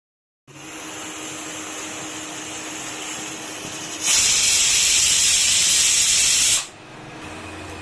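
A pressure cooker boiling chickpeas with salt, turmeric and water hisses steadily, then its whistle blasts loudly for a few seconds and drops back to a softer steam hiss.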